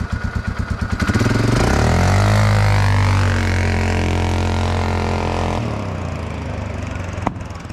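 A Polaris 500cc 4x4 ATV engine idling with a lumpy putter, then snapping to full throttle and holding a loud, rising, strained roar for several seconds before dropping back to a rough idle.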